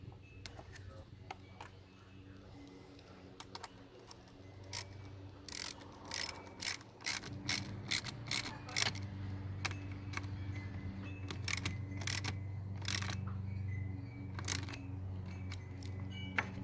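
A ratchet wrench reconnects the battery terminal on a Ford Taurus, giving quiet, close-up bursts of rapid pawl clicking that repeat in short runs over a low background hum.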